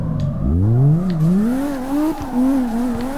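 A 900 HP BMW E34 M5 drifting in CarX Drift Racing Online, its engine revving loud and close, pitch rising and wavering with tire squeal underneath.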